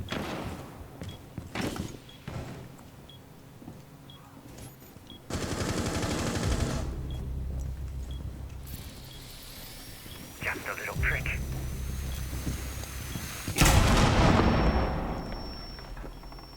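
Rapid automatic gunfire in Rainbow Six Siege, several sustained bursts of loud, dense shots with heavy low thumps, a louder burst near the end, mixed with game effects and someone talking.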